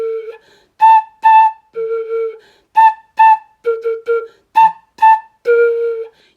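A beginner blowing a flute, a series of about a dozen short, breathy tones with strong overtones, some sliding in pitch, loud and close with clear gaps between notes.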